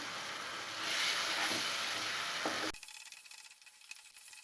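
Yogurt hitting hot oil and masala in a pan for South Indian paneer gravy, with loud, steady sizzling that cuts off sharply and settles into a quieter hiss.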